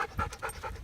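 A tired female dog pants heavily and rapidly during a long walk, close to the microphone, with a steady rhythm of quick breaths and no talking.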